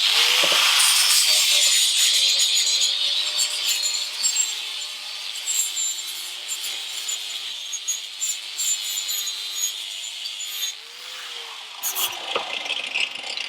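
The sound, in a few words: rough being taken off a workpiece by hand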